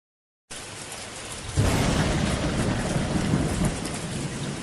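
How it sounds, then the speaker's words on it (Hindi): Heavy rain pours steadily with thunder rumbling through, starting as a lighter downpour and swelling into a loud, dense roar after a low crack of thunder, continuous to the end with no voices. "अगली ही रात में बारिश तेज हो जाती है।"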